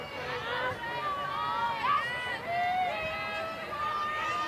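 A crowd at a Northwestern softball game against Michigan at the ballpark in Rosemont makes a steady, broad murmur and cheer beneath continuous commentator talk, staying fairly even throughout.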